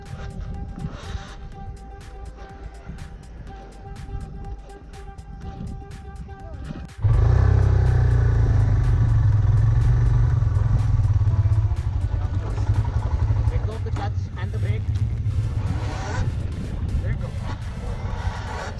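A motorcycle on a trail-school incline starts with a sudden loud engine roar that keeps idling and revving unevenly close by, after quieter moments with faint background sounds and voices.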